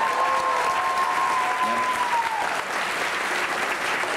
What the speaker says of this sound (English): Everyone, clap for them, please.